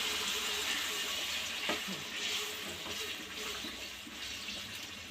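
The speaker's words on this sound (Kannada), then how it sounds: "ಮಿಕ್ಸಿ ಜಾರ್ಗೂ ಕೂಡ ಸ್ವಲ್ಪ ನೀರು ಹಾಕ್ಬಿಟ್ಟು ಅದನ್ನು ನೀಟಾಗಿ ತೊಳೆದ್ಬಿಟ್ಟು ಹಾಕ್ತಾಯಿದ್ದಾರೆ" Water splashes into a mixer grinder jar as it is rinsed out in a home kitchen, a steady hissing, running flow that continues close by throughout.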